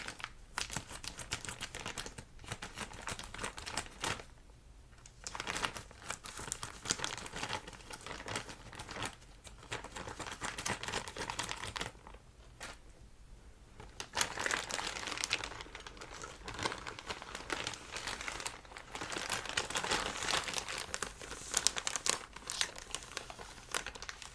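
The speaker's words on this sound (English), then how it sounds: "So let me get my scissors, just cut this open." Steady crinkling and crumpling of packaging as scissors cut it open, with sharp snips and rustles, continuous and close, with a few brief pauses.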